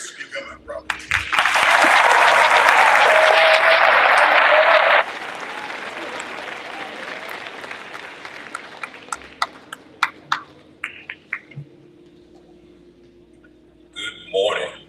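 A church congregation at a Black History Month event at a Missionary Baptist church breaks into loud applause that drops off sharply, leaving scattered claps and then a voice speaking.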